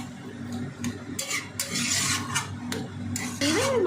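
Potato and cabbage curry is stirred in a pan, a spoon scraping and rubbing against the metal in irregular strokes over a faint background sizzle, close and moderately loud.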